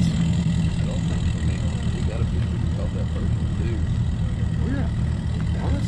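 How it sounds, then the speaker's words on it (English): Many car engines idle together before a race, a dense, steady low rumble with faint talk mixed in. "So you can start hearing everyone start their engines."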